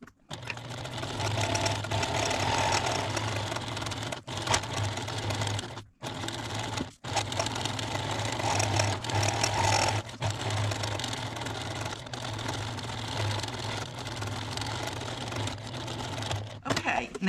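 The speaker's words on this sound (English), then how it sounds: "it's probably best to stitch around the edge of it, real close to the edge so it doesn't move." A sewing machine stitching close around the edge of fabric for a doll Moses basket, a steady rapid mechanical whir with brief pauses, loud and near, with a voice speaking occasionally over it.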